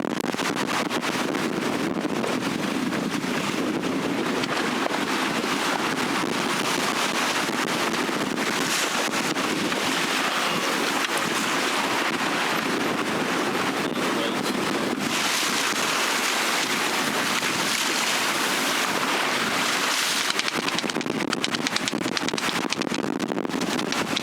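Steady roar of wind and rushing water surrounds a 20-foot sailboat under way on the open North Sea, a constant loud wash of waves and wind buffeting with no break.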